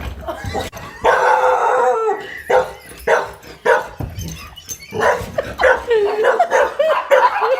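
A dog barks and yelps in short repeated bursts, with a drawn-out howl-like cry, loud and close, in a funny Halloween-themed clip.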